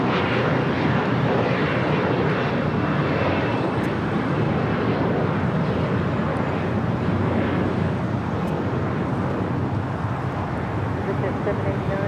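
A Japan Airlines Dreamliner jet airliner gives a loud, steady, wind-buffeted roar at LAX, near and unbroken throughout, with voices talking beneath it.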